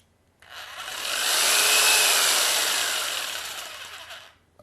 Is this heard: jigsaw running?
yes